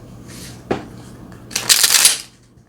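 Tarot cards are shuffled up close: a single soft slap of the deck, then a brief pause and a quick riffling burst of cards rustling together for about half a second, louder than the first.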